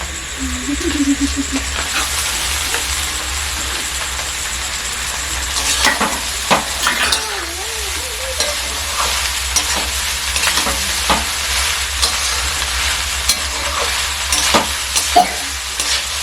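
Leftover rice stir-fried in a hot pan, a loud continuous sizzle with scraping and stirring strokes of the spatula recurring throughout.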